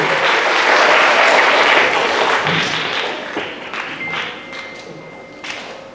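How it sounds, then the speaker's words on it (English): An audience at an intermediate school D.A.R.E. graduation applauds the teachers, a full burst of crowd clapping that peaks early and tapers off over a few seconds, followed by a quieter tail. "if we could give our teachers a round of applause"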